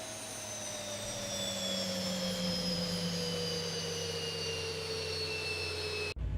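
Boeing 737 MAX jet engines spooling down in X-Plane 11, heard from outside as a loud steady whine with slowly falling tones that cuts off abruptly at the end.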